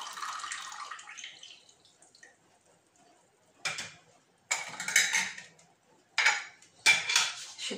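Pickling solution draining off pickled grapes in a kitchen, with a trickle of liquid at first, then several sharp clinks and clatters of dishes and containers, close and alone.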